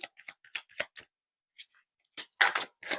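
A tarot card being laid down over another card in a spread: a handful of short, crisp papery taps and slides, close and fairly quiet, followed by a brief pause and a few louder rustling card movements.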